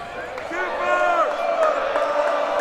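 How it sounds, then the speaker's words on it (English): High school basketball crowd in a gym getting louder, a dense rising roar with a few shouts and sharp thuds, heard under an announcer's voice. "Crowd gets loud"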